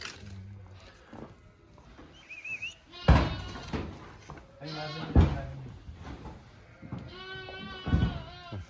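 Lambs bleat repeatedly while being vaccinated, loud and close, in several overlapping wavering cries with short gaps between them, mixed with some clatter nearby.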